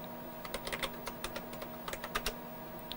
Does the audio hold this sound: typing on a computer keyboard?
yes